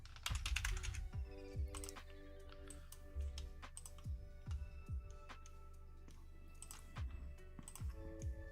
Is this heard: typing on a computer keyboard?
yes